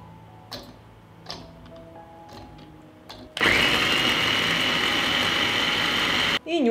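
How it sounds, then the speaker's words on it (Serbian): An electric food chopper minces a hot pepper in a home kitchen. A few soft knocks and faint handling sounds come first, then a loud, steady motor whir runs for about three seconds and cuts off abruptly. "I usitnit ću je u secku."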